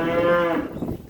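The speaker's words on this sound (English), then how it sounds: "We got some cows coming in, heifers, so we got a full barn here at the moment." Heifers and cows in a full farm barn give a loud, close moo that holds for about half a second and then trails off into quieter barn noise.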